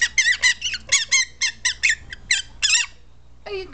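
A green-cheeked conure squeaks and chirps inside her cage, a rapid series of loud, close, high-pitched squeaky calls in quick bursts, then a pause and one longer squawk.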